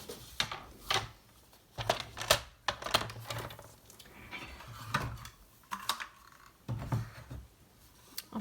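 Paper is cut with scissors for a December Daily scrapbook page, giving a series of close, crisp snips and rustles at an irregular pace, with quiet pauses between.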